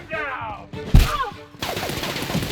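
Gunfire in The Outer Worlds video game comes in short, loud bursts mixed with in-game voices shouting during a firefight.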